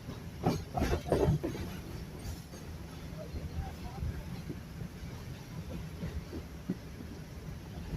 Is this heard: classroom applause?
no